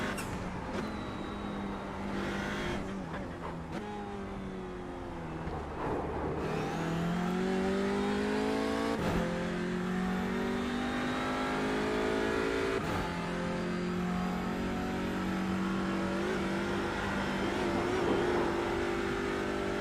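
A race car engine in iRacing, revving hard through repeated upshifts and downshifts with rising and falling pitch, steady and loud throughout, with a few brief clicks between gear changes.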